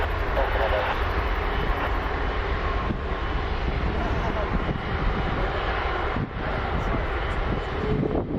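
An Airbus A330's jet engines roar continuously at Montréal-Trudeau Airport, a loud, steady broadband rush with some wind buffeting, while a voice talks over it.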